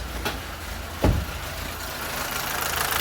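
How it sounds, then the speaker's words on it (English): A Mazda 3 Skyactiv 2.2 diesel engine with low oil pressure idles with a steady, rough, overly loud rattle, close by and moderately loud, with a brief louder knock partway through. "the engine sound is too loud and it's a type of rattling"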